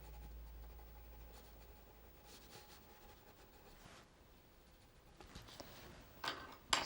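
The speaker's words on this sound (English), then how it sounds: "So if I just finish him off with the B pencil" A B pencil scratches softly across paper while a drawing is shaded, quiet intermittent strokes that gain texture and rise in loudness toward the end, close up with no voices.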